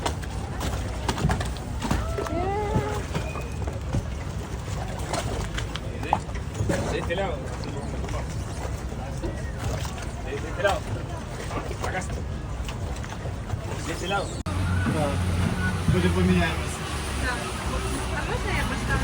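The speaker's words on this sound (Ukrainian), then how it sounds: "наша лодочка, якою ми зараз будемо пливти" A small water-taxi boat sets off across the water, its motor and splashing a steady drone beneath continuous nearby chatter and voices.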